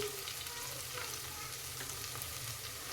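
Fenugreek seeds, cashews and green chillies frying in hot fat in a pan for ghee rice, a continuous soft crackling sizzle that stays even throughout.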